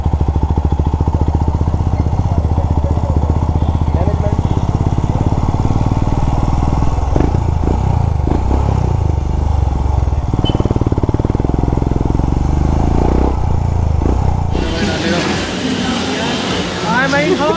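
A motorcycle engine rumbles and clatters continuously through a ride in the rain, close and loud, with a person talking over it.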